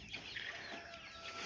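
Chickens in a pen on a Texas farm cluck softly, a faint, brief patch of poultry calls over quiet outdoor background.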